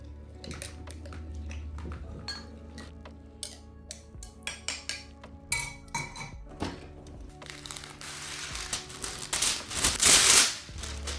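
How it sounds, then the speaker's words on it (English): A spoon stirring a jar of fire cider made with apple cider vinegar, giving repeated clinks and knocks against the glass in an irregular rhythm that builds to a busier rattle near the end. "I'm gonna give this a good little stir."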